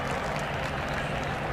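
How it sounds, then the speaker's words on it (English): A crowd at a 2011 IndyCar race applauds steadily as driver Marco climbs out of his car after an incident, a continuous, fairly distant wash of clapping with no clear voices. "The crowd giving Marco a hand as he climbs out."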